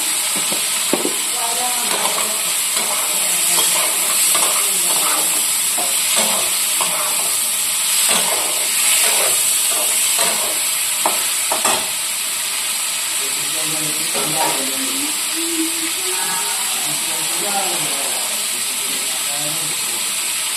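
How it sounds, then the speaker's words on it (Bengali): Paneer frying in a pan gives a steady close sizzle and hiss, with scattered scraping stir sounds through the first half and a voice talking over it. "পনির বেশি ভাজুন না, আমি একটু কমই ভাজি পনিরটা, নাহলে শক্ত হয়ে যাবে"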